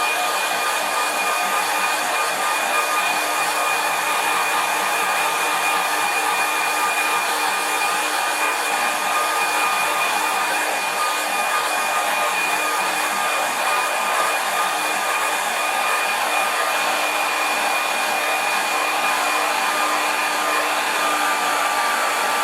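A hair dryer blows steadily on a watercolour landscape painting taped flat on plywood, a loud, even whirring hiss that holds unbroken for the whole stretch with no talking.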